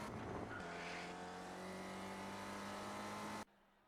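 In an iRacing sim race at Watkins Glen, a Skip Barber race car's engine drones steadily with squealing tires as it spins out, fairly quiet, before cutting off abruptly near the end.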